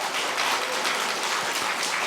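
A church congregation applauds the fathers and husbands during a Sunday morning service, a dense, steady clapping from many hands that fills the room for the full stretch without a break.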